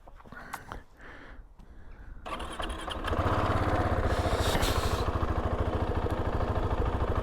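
A new motorcycle with its stock exhaust starts up and settles into a steady, fairly quiet running drone that fills the second half, preceded by some handling noises.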